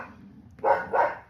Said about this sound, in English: my dogs are barking at the neighbor's dogs, and they're not going to stop